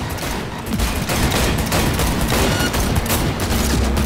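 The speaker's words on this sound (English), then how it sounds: "Yo, that driver took a shot." Sustained rapid gunfire in Cyberpunk 2077 during a car chase, loud and continuous bursts of shots running the whole way through with no pause or talk over it.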